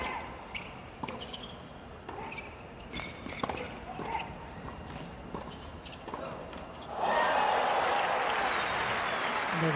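A tennis crowd at Louis Armstrong Stadium, Flushing Meadows, during a US Open first-round mixed doubles match, breaks into loud, sustained applause after scattered ball bounces and footsteps, while a commentator talks.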